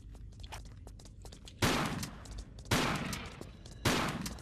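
Three loud shotgun blasts from a Tomb Raider custom level game, roughly a second apart, each a sharp broadband burst with a decaying tail, over quieter background clicks and footsteps.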